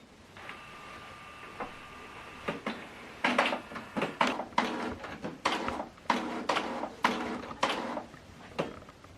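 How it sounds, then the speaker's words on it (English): A Canon TS7750i printer powers up, starting with a faint whine, then a run of rhythmic mechanical clunks, whirs and clicks as its internal parts move, growing louder and more regular toward the end. "Switch the printer on."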